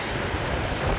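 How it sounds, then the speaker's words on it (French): Strong seaside wind roars steadily into the microphone, loud and buffeting, with no clear speech over it. "Il y a beaucoup de vent donc je sais pas si vous m'entendrez."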